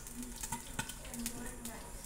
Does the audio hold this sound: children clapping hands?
no